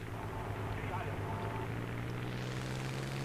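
Propeller aircraft engine in a War Thunder dogfight against a Spitfire, a loud steady drone that holds an even pitch throughout, close and continuous.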